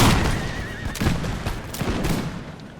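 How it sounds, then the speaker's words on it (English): Massed musket volley fire on an eighteenth-century Prussian battlefield in Imperial Splendour, a dense crackle of overlapping shots mixed with horse whinnies and battle din, continuous and moderately loud. "Plus the musket fire is murdering them"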